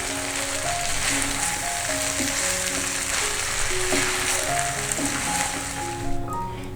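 Boiled cracked wheat being stirred into vegetables cooking in a kadhai for savory Gujarati thuli, a steady oily sizzle with soft scraping and stirring, while music plays in the background.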